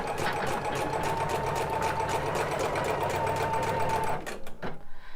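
An embroidery machine stitches a satin stitch with a fast, even mechanical chatter and hum, then stutters and stops near the end.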